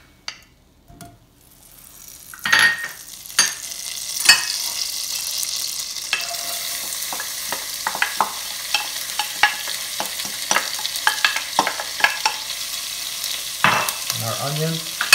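Butter and olive oil sizzle in a pot over a medium-high flame, a hiss that swells after a quiet start and holds steady, dotted with small clinks and stirring scrapes, with no talking.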